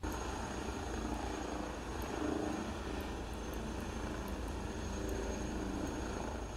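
Airbus H160 helicopter in a flight simulator game, a steady rotor and turbine drone with a faint high whine, continuous and even throughout with no voices.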